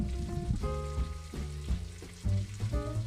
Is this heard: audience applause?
no